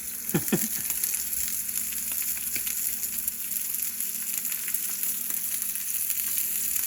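Steak sizzling steadily in a hot pan, a continuous bright frying hiss with a few sharp clatters near the start, close and alone without talk.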